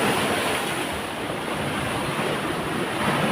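Ocean surf breaking on a beach shore, a steady broad wash of churning water with wind rushing across the microphone, loud and continuous without pause.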